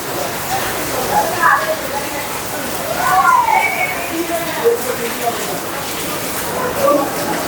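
Water seeping and trickling down the mountainside at the entrance of Marleshwar temple in Maharashtra, a steady wet wash of noise with birds chirping over it throughout.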